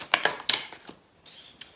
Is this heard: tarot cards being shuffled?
yes